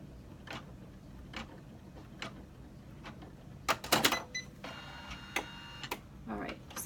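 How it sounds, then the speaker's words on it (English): Embroidery machine stitching out a starfish design, a run of light ticks at a regular pace, then a busier, louder burst of rapid mechanical clatter and needle taps, close and without speech. "it's probably very boring watching a machine stitch out"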